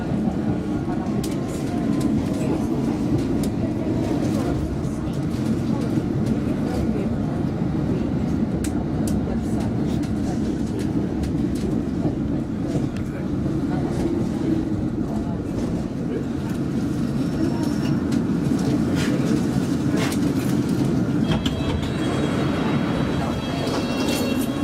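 London Underground District line train at Cannon Street station, a continuous loud rumble of the moving carriage with rattling and occasional clatter, heard from inside for the full length, with faint background voices.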